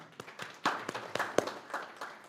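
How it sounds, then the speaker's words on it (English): A small audience at an ecommerce community event claps for a team, around eight to ten sharp claps in an uneven rhythm, close and modest in volume, with no talk over them. "A round of applause for Zaquan and his team."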